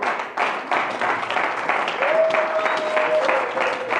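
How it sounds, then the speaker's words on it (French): A church congregation claps and applauds together in a steady, lively patter that fills the room, with a sustained voice or tone sounding through the middle. "Mais acclamons, non?"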